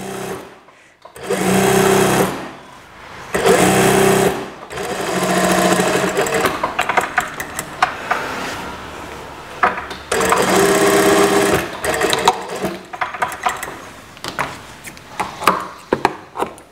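A sewing machine stitches down a waistband on a pair of drawstring shorts, running in several loud sustained bursts separated by short pauses, with no talk over it.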